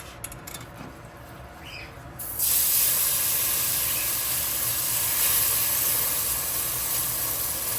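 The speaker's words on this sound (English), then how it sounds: "I'm gonna go ahead and add my milk mixture here." Milk mixture poured into hot flour and ghee in a pot while making Guyanese parsad sets off a sudden loud, steady hiss and sizzle that runs on without talk.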